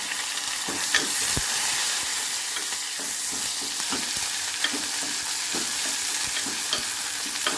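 Onion, curry leaves, dried red chili, cumin and asafoetida frying in hot oil, a dense continuous sizzle with intermittent spoon scrapes and stirring taps close by, no voices.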